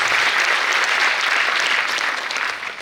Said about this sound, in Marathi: सो एकदा तिच्यासाठी जोरदार टाळ्या झाल्या पाहिजे